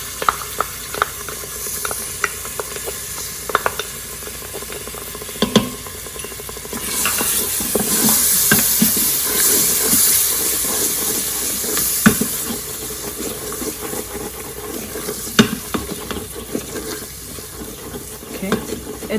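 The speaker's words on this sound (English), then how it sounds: "Now we're going to deglaze the pan by adding our yogurt in here." Yogurt hits a hot Instant Pot with spices for nihari, and the pan sizzles and hisses through a louder burst in the middle while a spoon scrapes and stirs in scattered knocks.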